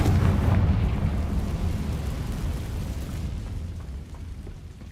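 Confringo blasting spell explosion in Hogwarts Legacy: a deep, rumbling blast that starts loud and slowly fades into a long, low roar.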